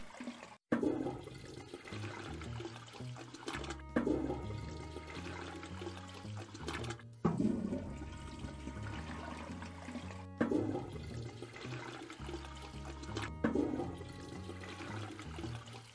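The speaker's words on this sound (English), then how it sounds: "I flushed a toilet." Repeated toilet flushes in the Toilet Flushing Simulator video game, each a loud rushing swirl of water, four or five in a row at roughly three-second intervals over a steady musical backing, no talking.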